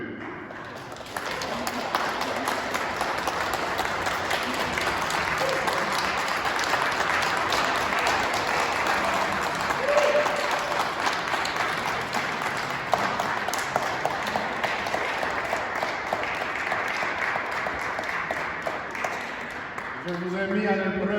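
A church congregation applauds at an Easter vigil, sustained dense clapping from a large crowd filling a reverberant hall for about twenty seconds, steady and loud before fading at the end.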